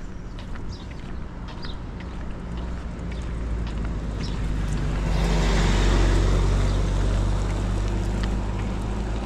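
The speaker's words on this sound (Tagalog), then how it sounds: "May sasakyan ah." A motor vehicle passes on a road near a medical city in Riyadh, its broad rumble building from a low background hum to a peak near the middle, then easing off slightly.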